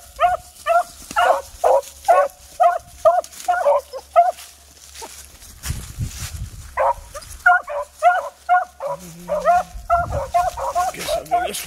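Hunting dog barking in the woods: loud, close, evenly spaced barks in rapid runs, a pause filled with rustling through brush, then the barking picks up again.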